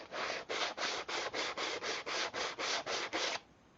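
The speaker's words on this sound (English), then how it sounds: "Nothing a little sandpaper can't fix." Sandpaper rubs back and forth on a part of an insect zapper in twelve quick, even strokes, close and loud, then stops.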